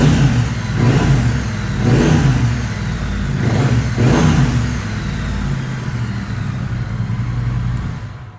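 A motorcycle engine on a cold start idles steadily and revs up several times in a rhythmic pattern, close and loud, with no talking.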